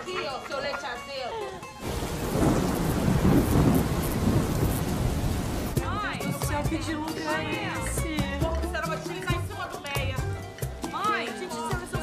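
Heavy rain pours down with thunder, first a roaring, sustained downpour and rumble, then steady rain continuing beneath people talking.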